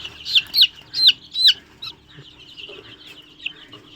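Chickens on a farm in Raozan, Chattogram give a quick run of short, high clucking calls close by, then fade to softer, scattered calls over a low background hum.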